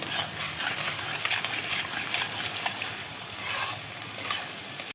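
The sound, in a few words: spice paste being sautéed in a pan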